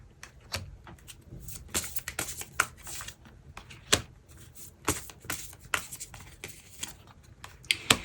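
Tarot cards are shuffled and drawn close by in a string of crisp irregular flicks, riffles and slaps, some louder snaps standing out, with no voice.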